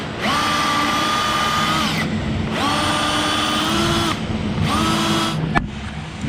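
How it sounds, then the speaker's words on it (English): A power drill drilling a bolt hole on a BMW-engined turbo kart whines at a steady pitch in three long bursts, spinning up and down between runs, loud and close. "We'll drill and tap that right there"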